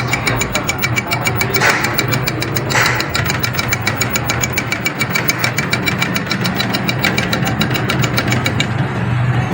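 A faulty e-bike hub motor with a winding fault runs with a continuous whirring hum and a regular jerky pulsing, loud and close with no pauses.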